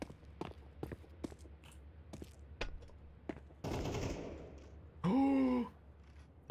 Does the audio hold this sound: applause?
no